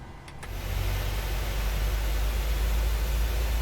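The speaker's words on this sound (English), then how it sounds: "introduce some fuel and get engine number 2 started" An airliner's second engine spools up inside Microsoft Flight Simulator, a steady broad whooshing roar that rises within the first half second and then holds loud and even.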